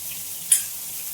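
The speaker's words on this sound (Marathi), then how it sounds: "आता याचा उकल येते बघा बारीक बारीक" Bombil (Bombay duck) fish curry comes to a gentle simmer on the stove with a soft, steady high hiss and one brief faint click partway through.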